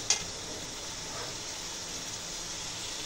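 Beef mince sizzles steadily in bubbling oil in a pot, a continuous close frying hiss with one brief clink at the start and no talking.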